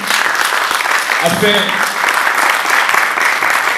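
Audience applause for Pauline at the opening of a sickle-cell support event in Nice, steady dense clapping filling the room throughout, with a voice briefly speaking over it.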